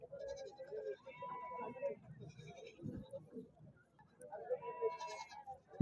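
Rams bleating at a busy livestock market, several calls rising over a constant murmur of people talking nearby.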